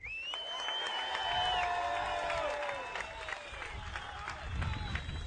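Crowd applauding and cheering for the winner at the 2011 IBA Bodyboarding Reunion final, a steady wash of clapping with whistling tones and a voice over it.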